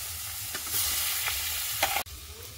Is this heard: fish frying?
yes